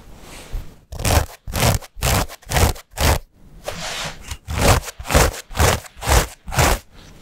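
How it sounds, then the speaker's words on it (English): Heavy 100% cotton selvedge denim, 12.5-ounce weight, is rubbed in quick rhythmic strokes, giving a series of about a dozen scratchy, raspy swishes in two bursts, close and clear with no talk. "let's take a listen here to see how this denim sounds"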